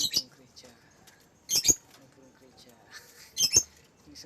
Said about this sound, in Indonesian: Nah, ini burung gereja.